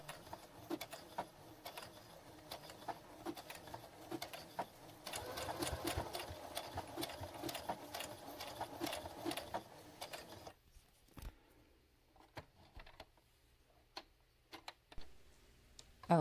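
Sewing machine stitching a linen belt, a fast steady mechanical ticking hum for about ten seconds, then stopping with a few scattered faint clicks, quiet overall, no talk.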